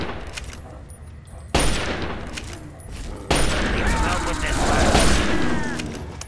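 Gunfire in the Fallout 3 video game on PC: two sudden loud bursts of shots, the second leading into a sustained rumbling roar, over a steady background of game ambience.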